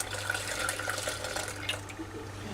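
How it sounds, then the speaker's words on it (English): Milk pours into a saucepan of white sauce with a soft, steady liquid trickle, close and quiet over a low hum. "Then add a little bit more milk"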